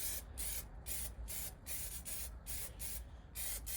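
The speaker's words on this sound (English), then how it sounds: "So I'm just hitting any areas that have any rust on it." Aerosol rust converter sprayed onto rust spots on a VFR 400 NC30 motorcycle: a rapid series of short hissing bursts, close and steady, with no voices.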